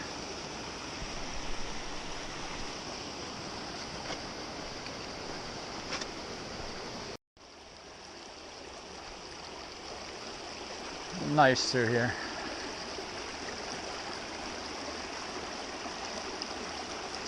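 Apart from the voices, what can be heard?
Pipe Creek flowing in Pipe Canyon, Grand Canyon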